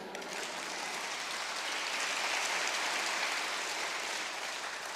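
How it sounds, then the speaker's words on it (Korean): An audience at a camp sermon claps in sustained, dense applause, a steady wash of hand claps lasting several seconds with no talk over it. "박수 한번 치세요."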